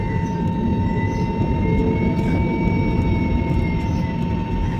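A passenger jet on a Mumbai to Kolkata flight taxis before takeoff, its engines giving a loud, steady droning hum with a constant whine, heard from inside the cabin.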